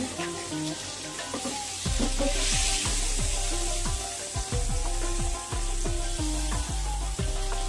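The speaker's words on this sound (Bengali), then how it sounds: "ডিমটা এমনি একটু তেলে ভেজে দিলাম" Hot oil sizzles and crackles steadily as eggs fry, with occasional scraping and stirring knocks from a utensil in the pan, close up.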